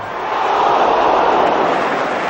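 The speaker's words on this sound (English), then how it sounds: "Well might the crowd ooh." A football crowd at Old Trafford in a 1974 match lets out a swelling broad "ooh", a loud roar of many voices rising and holding from distant stands.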